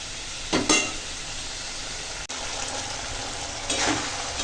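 Okra cooking in a pan on a low steady sizzle after a splash of dish-rinsing water, with two short bursts of stirring or scraping breaking through near the start and again near the end.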